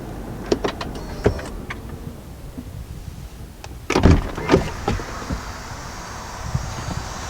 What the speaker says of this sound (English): when I do turn the vehicle off, the steering wheel and the seat does move back to help with easier entry and exit